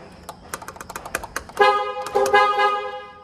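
A string of quick clicks and taps, then a Toyota car horn sounds twice, each a sustained, harmonic honk close by, in a garage.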